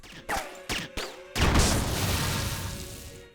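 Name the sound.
video game explosions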